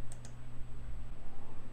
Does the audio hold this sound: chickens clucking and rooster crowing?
no